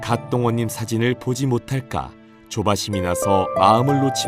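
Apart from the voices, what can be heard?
No everyday noise stands out behind the speech.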